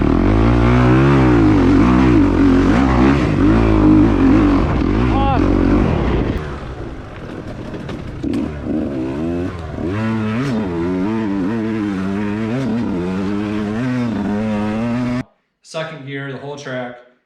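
A 2023 Kawasaki KX 250X dirt bike engine revs and shifts pitch as it rides a track, loud and close, with gear changes and a voice talking over it, then a sudden cut and brief resumption at the end.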